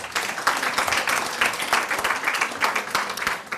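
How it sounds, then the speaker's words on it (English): An audience at a youth convention talk breaks into steady, dense applause, many hands clapping together loudly and continuously throughout with no pauses. "give yourselves a big round of applause"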